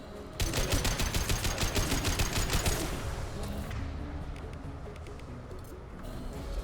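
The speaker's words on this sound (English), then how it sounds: "This is laser gun time." Rapid bursts of laser gun fire from Mass Effect 2, a fast stuttering volley for a few seconds that then fades into a lower rumbling game background.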